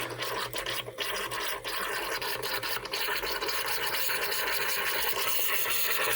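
Air and water spit and sputter from a whole-house well water filter housing as it is bled: a steady, loud, rough hissing rush with brief dips early on, then a continuous forceful spray.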